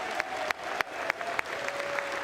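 Applause in the House chamber during the speakership vote: sustained crowd clapping at moderate distance, with a few sharper individual claps punctuating the steady roar.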